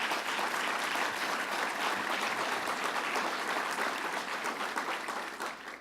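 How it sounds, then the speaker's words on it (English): Audience applause at a government policy event in Rochester, a full, dense roar of clapping from a large crowd that holds steady for several seconds before tapering slightly at the end. "Let's give her a round of applause"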